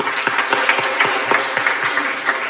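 Church congregation claps loudly together in praise, a close, dense burst of many hands with a loosely regular beat running through the whole stretch.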